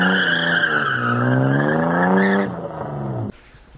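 A black BMW doing donuts, its tires squealing in a long wavering screech over the revving engine, then cutting off abruptly, leaving a quieter idle.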